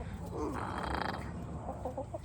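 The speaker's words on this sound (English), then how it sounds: "She just growled at me. I've never had a chicken growl at me." A broody hen sitting on a clutch of eggs gives a low, rough growling grumble, close and fairly steady for a couple of seconds, with a few short clucks near the end.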